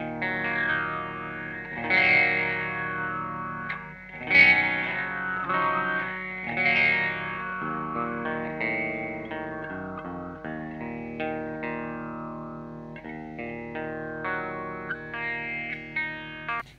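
Guitar fed through an EQD Interstellar Orbiter pedal with only the wet effect heard, producing swept, filtered and slightly distorted sustained tones with swelling attacks and a washy, modulated tail; continuous and fairly quiet, no talking.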